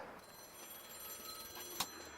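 A telephone rings at a school prep rally, a steady electronic trill over a noisy, echoing room, ending in a sharp click.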